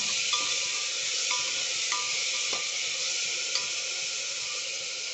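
Vegetables and canned beans sautéing in oil in a pan, a steady soft sizzle with a few faint clinks of stirring over several seconds.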